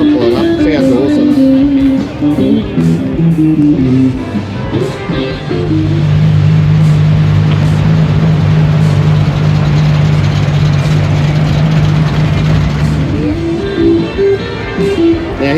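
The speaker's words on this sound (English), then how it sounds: "Oh, this one pulling up. Sounds awesome." A modified car pulls up at a Christmas charity car meet outside a diner, its engine rumbling in a deep, steady idle through the middle stretch, with surrounding crowd chatter and other engines revving at the start and end.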